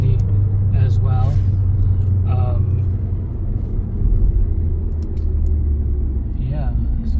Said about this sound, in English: it just changed gears, and you see that it builds up speed quite quickly as well.